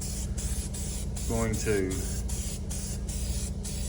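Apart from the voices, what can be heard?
gloss black spray paint being sprayed from a can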